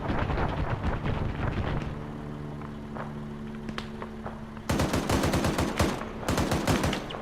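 In a military video game, a machine gun fires from a bunker in rapid bursts of sharp, fairly close shots, two long strings near the end, with wind noise and scattered shots earlier.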